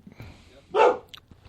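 A dog gives a single short bark at close range during an indoor podcast recording, loud against a quiet room with faint background sounds before and after.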